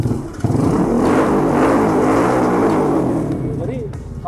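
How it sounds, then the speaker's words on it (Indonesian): A small Honda Karisma motorcycle custom-built as a bobber gives a deep, throaty engine note, close and loud, swelling through a rev and easing off toward the end. "Walaupun motor karisma, tapi suaranya ini garu banget"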